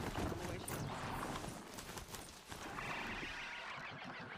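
Galloping hooves of a ridden horse-like mount in Horizon Zero Dawn beat in a fast, rhythmic clatter, moderately close and fairly quiet, over a soft background of game ambience.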